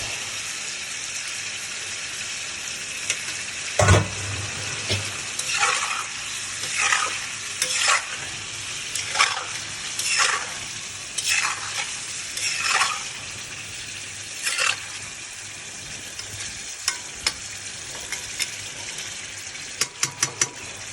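Eggs and potatoes are stirred into a curry masala of ground paste, garam masala and oil frying in a pan, a soft steady sizzle broken by repeated scraping stirs and one sharp clatter, close and without talk.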